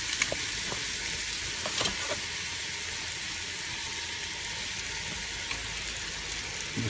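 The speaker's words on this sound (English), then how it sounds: "Then we're going to add in our shrimp stock." A seafood gumbo pot sizzles steadily as shrimp stock goes in, with a continuous close frying hiss and a few faint clinks, no voices.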